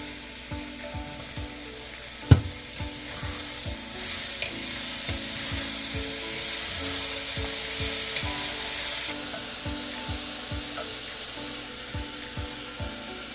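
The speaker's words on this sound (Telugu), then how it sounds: "లైట్గా ఉల్లిపాయలు అయితే వేగినాయి కదా, ఇప్పుడు వెజ్జెస్ అన్నీ వేసేసుకుందాం" Onions and mixed vegetables fry in a pan for an Andhra tamarind dal dish, with a steady sizzle under repeated wooden scraping and stirring strokes and one sharp knock early on.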